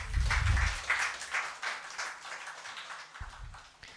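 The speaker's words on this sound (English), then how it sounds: "Can we have a round of applause, audience?" An audience applauds at a literature festival stage event, with scattered claps that start strong and fade over a few seconds, moderately distant in a large hall.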